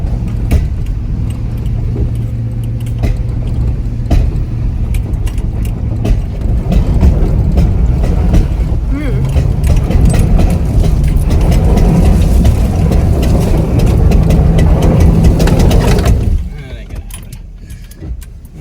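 A truck with 247,000 miles and a blown GM G80 rear differential with a holed cover drives along, its engine and drivetrain giving a steady loud rumble with rattling, popping noise before the sound drops away near the end; talk is heard over it.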